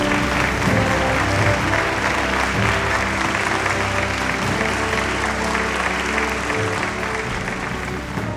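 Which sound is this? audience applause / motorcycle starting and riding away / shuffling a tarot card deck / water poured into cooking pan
audience applause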